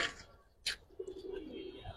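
Hungarian Budapest high-flyer pigeons give a soft, close coo, a low drawn-out call that follows a couple of short sharp noises.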